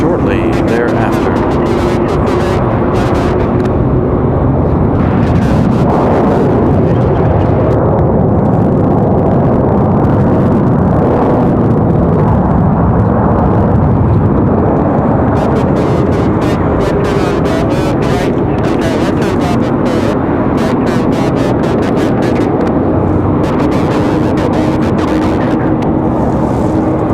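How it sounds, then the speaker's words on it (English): Delta flight 2026 from Atlanta touching down at Raleigh-Durham International, a loud, steady broadband jet roar with a low engine hum that swells and stays close throughout, overlaid with intermittent crackling wind noise. "Delta 2026 from Atlanta touching down shortly thereafter."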